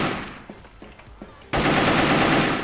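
Heavy bursts of Skull VKS rifle fire in the Wolfteam shooter game, sporadic shots at first and then a loud, sustained volley that fills the last second of the clip.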